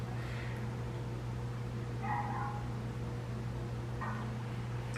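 A dog gives a few short, high yelps and whimpers, spaced a couple of seconds apart, fairly faint over a steady low electrical hum.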